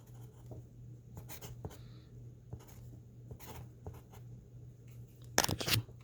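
Handwriting on paper, quiet scratchy pen or pencil strokes in short bursts close by, over a faint steady hum, with a louder rustle of strokes near the end and no talking.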